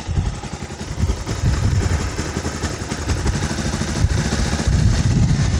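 A 220cc motorcycle engine idles steadily after being started during carburettor mixture and RPM screw adjustment, a dense continuous low rumble with mechanical clatter holding an even level throughout.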